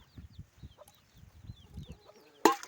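Chickens kept in a backyard pen give soft, repeated low clucks through a quiet morning, with faint chirps around them and one sharp, louder squawk near the end. No one speaks.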